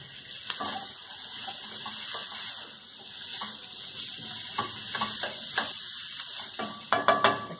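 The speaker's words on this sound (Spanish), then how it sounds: "Aquí voy a dejar que se siga sofriendo bien. Y vamos a estar moviendo constantemente para que no se nos pegue." Drained canned corn kernels sauté with salt and minced garlic in a pan, giving a steady sizzle with repeated stirring scrapes throughout and a few sharper clatters near the end.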